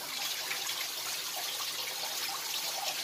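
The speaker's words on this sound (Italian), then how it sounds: "ma va su all'infinito questa cascata qua" A waterfall inside a mine, a steady bright hiss of falling and splashing water, close and continuous with no voices.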